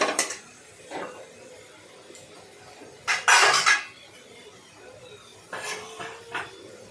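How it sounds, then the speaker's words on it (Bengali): A spoon scrapes and knocks against a pan while a lentil dish is stirred and fried, producing a few brief clanks and one longer scraping burst, close and moderately loud over a low frying hiss. "এই নাড়াচাড়া করে ভাজলাম"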